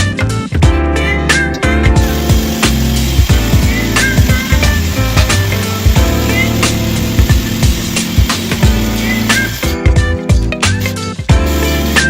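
Old cast iron drain pipe being cut out during a home remodel, likely with a power saw, with loud, continuous grinding and rasping cuts broken by brief pauses and clanks, close up and alone throughout.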